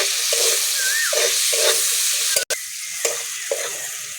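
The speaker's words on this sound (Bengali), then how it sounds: "পেঁয়াজ ভালো করে ভেজে নিয়েছি।" Chopped onions sprinkled with salt sizzle loudly in a pan, stirred at a regular rhythm so that a spatula scrapes repeatedly against the metal, close and with no voices.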